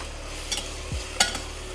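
Onions with ginger-garlic paste being stirred in a pan while sautéing, giving a soft, faint sizzle with a couple of brief scraping stirs over a short moment.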